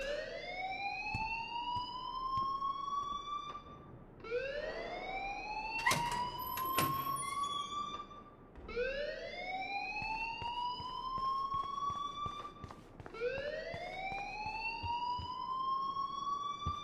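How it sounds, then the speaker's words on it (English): A school fire alarm in the video game Life Is Strange wails in repeated rising electronic sweeps, each about four seconds long, steady and moderately loud, with a few brief clanks partway through. "please turn off that alarm since that's your job"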